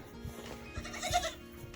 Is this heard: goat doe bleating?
yes